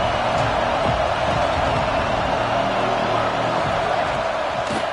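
A football stadium crowd keeps up a constant, dense roar that fills the whole stretch at steady loudness, with occasional faint shouts poking through.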